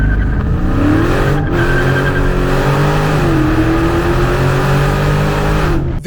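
A Dodge Challenger Scat Pack engine roars under a hard launch, revs climbing steadily through a gear change, close and continuous with a deep rumbling tone.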